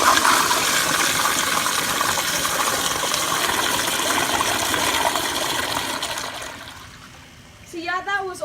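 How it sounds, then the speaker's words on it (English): A Crane Placidus toilet flushes loudly and steadily, a broad rushing gush of water that holds for several seconds, then thins out into gurgling and a faint refilling trickle near the end. "so here's another flush"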